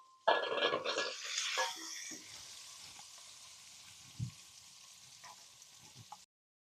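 Shallots and garlic hit a pan of frying coconut for a beef dish, a sharp burst of sizzling that settles into a faint, steady hiss with light stirring clinks.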